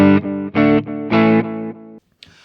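An electric guitar plays through a Laney Black Country Customs Difference Engine stereo delay pedal set to an Echoplex-style preset, giving loud, distorted sustained chords in uneven bursts that decay into repeating echoes before a brief quiet tail.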